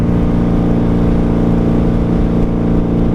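A 1995 Harley-Davidson with Jardine pipes drones steadily in fifth gear with no clutch use, its engine a loud, continuous low rumble close by, with no gap or rev change standing out.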